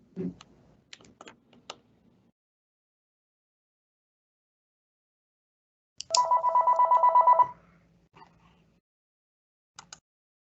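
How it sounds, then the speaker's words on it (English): A short burst of electronic phone ringing trills for about a second and a half, framed by scattered quiet keyboard clicks and taps. "Sorry, that was my phone, so I muted myself briefly."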